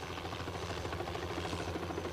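A helicopter arriving at the remote village of El Arenal gives a continuous, thick rotor thrum and engine drone, steady and fairly close throughout, with no voices.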